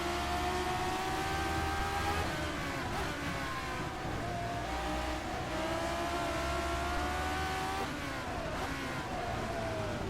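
Classic Formula 1 car engine in rFactor 2, screaming high and steady as it accelerates through the gears, with rising and falling harmonic whines and brief dips at shifts, loud and continuous with other cars nearby.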